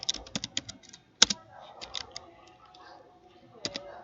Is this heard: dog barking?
no